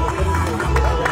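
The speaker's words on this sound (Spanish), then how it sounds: "¡Fuerte los aplausos!" A crowd at the prize ceremony for a 8K neon night race in Cobán cheers and claps in a steady wash of applause mixed with crowd noise and babble.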